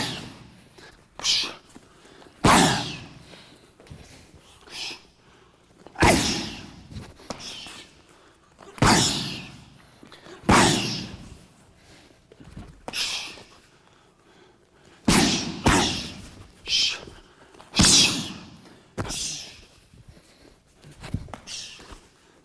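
Body kicks slamming into Thai pads in a Muay Thai training session, a steady run of loud, sharp smacks every second or two, with a trainer talking between strikes.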